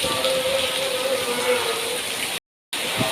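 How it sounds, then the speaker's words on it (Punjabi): Heavy rain falls steadily before dawn, a dense, even wash of noise that stays constant throughout, broken only by a brief dropout near the end. "ਬਹੁਤ ਜ਼ਿਆਦਾ ਮੀਂਹ ਪੈ ਰਿਹਾ"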